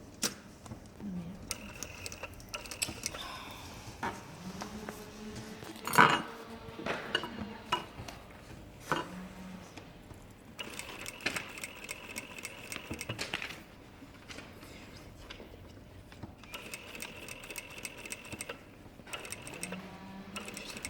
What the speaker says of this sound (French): Je fais une reprise de couture.